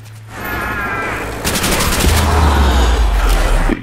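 An RPK machine gun fires in Black Ops 3 Zombies. A rapid, loud burst of automatic gunfire swells into a dense rattling volley over a low rumbling game background.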